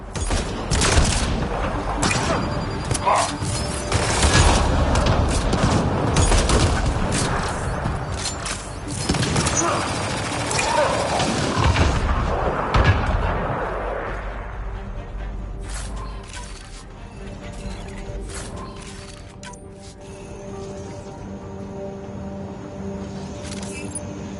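Gunfire crackles in a battle in Mass Effect Andromeda, with dense rapid shots and bursts for about fifteen seconds before thinning to sparse distant pops under a low ambient hum, with speech mixed in.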